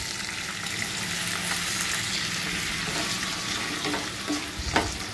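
Brinjal (eggplant) for an instant thuvaiyal simmers in a pan with a little water added, giving a steady, close sizzle and bubbling hiss throughout, with a few soft stirring clicks toward the end.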